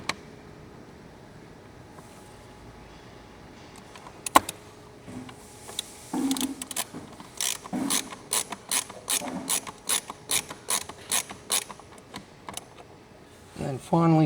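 A ratchet tightens a screw on a WRX bumper bezel mount at an old fog light location, a run of evenly spaced clicks close by, preceded by quieter handling noises.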